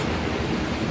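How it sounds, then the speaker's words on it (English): A river swollen after days of rain rushes hard past, a loud, dense, continuous roar of water with wind buffeting the microphone. "So the river's coming down quite hard."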